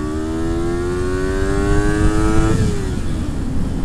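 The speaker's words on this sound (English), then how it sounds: "I want to talk to you about Ninja bike I'm riding" A Kawasaki Ninja 250R motorcycle engine revs, its whining pitch climbing steadily for a couple of seconds and then dropping off, loud and close over a steady rushing roar.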